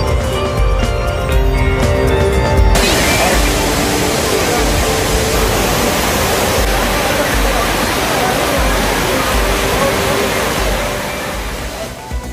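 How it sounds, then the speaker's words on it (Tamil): Waterfalls gushing at Thirparappu and Courtallam, a loud, steady broadband roar of falling water that continues throughout, with a musical news-jingle bed fading out in the first seconds. "திருப்பரப்பு குற்றால அருவிகளில் ஆர்ப்பரித்து கொட்டிய நீரில் குளித்து மகிழ்ச்சி"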